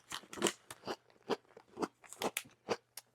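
Close, crisp crunching and chewing of small packaged cookies in irregular bursts, fairly quiet and heard alone without talk.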